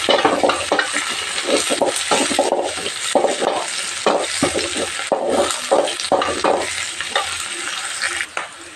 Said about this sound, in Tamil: கருவேப்பிலை சேர்த்திக்கலாங்க.